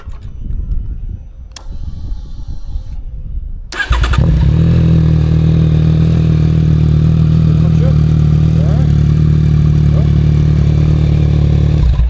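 A 2024 Yamaha XSR 900 motorcycle fired up after an oil change: a short starter whir, then the engine catches and settles into a loud, steady, close idle, preceded by faint background noise.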